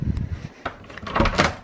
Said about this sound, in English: it's so hard to open these doors